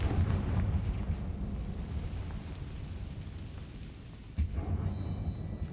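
A Confringo blasting spell goes off in the video game Hogwarts Legacy, a deep rumbling explosion that booms loudly at the start, fades into a low roar, then a second sharp blast hits near the end.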